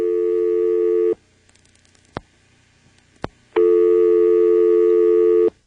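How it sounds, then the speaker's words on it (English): A second dial tone from a 1977 NX1-E telephone exchange sounds steadily for about a second, stops, two faint clicks follow in the silence, then the tone returns and holds for two seconds. "A second dial tone."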